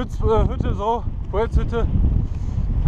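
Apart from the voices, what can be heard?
strong wind on a mountain hike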